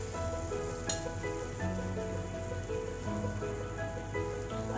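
Batter for nerippadam spread onto a hot pan gives a steady, dense sizzle and crackle that holds evenly throughout, close and moderately loud with no talking.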